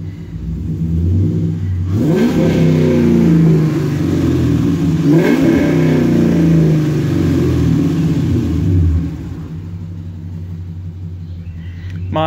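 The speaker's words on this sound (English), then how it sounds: "Now, the turbo will not completely fully spool." A turbocharged 2013 Ram 1500 pickup truck engine revs hard, the loud rumbling pitch rising and falling through repeated throttle sweeps before settling back to a steady idle, with no voices over it.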